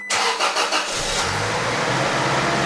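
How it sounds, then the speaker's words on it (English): A 2006 Toyota Tacoma with newly installed fuel injectors and spark plugs cranks in several quick, rhythmic starter pulses, then catches and settles into a loud, steady idle close by. "now we're gonna try to crank it"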